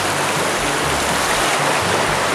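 A stream flows loud and close in an outdoor river crossing, a continuous dense rush of water with no pauses and no voices.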